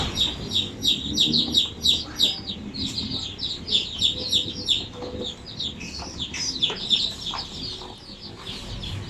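A flock of Basilan native chicken chicks chirp in rapid, high-pitched bursts close by, the peeping dense at first and then thinning into scattered calls over a low background rumble.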